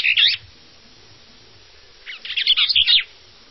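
Songbirds chirp and trill in two bursts, a short call at the start and a longer run of bright tweets after a pause, clear and fairly close, recorded as sounds of Earth's birds.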